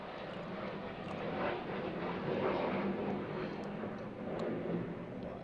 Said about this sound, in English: a jet fighter just came really loud by us